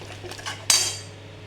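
Chili chicken is mixed in a pan, with a few soft scrapes followed by one sharp metallic clink of a utensil against the pan, close and brief.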